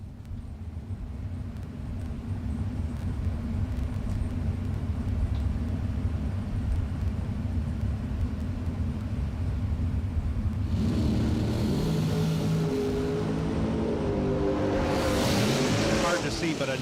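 A bracket-racing dragster launches down the strip after a long, low engine rumble, then a louder roar swells with rising engine tones. Track announcer talk runs over it.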